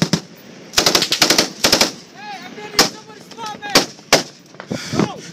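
Rapid machine gun bursts crack close and loud in an intense firefight, short staccato volleys separated by brief gaps, with single sharper shots and shouting voices mixed between them.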